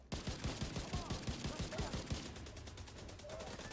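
Rapid burst of gunfire from a video-game firing squad, dense cracking shots in quick succession for about two seconds, then fading into a lower rumble and lingering noise.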